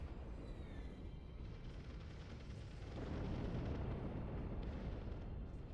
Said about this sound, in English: this capital planet is being bombarded by two Marsas with their radiation shells